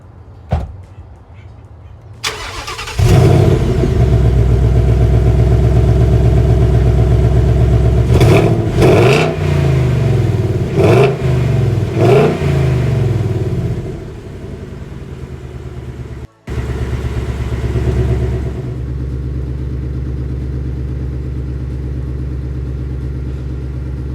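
Ford Mustang GT with factory exhaust starting up and revving, a loud V8 rumble with several sharp blips of the throttle, a brief cutout, then settling into a steady idle.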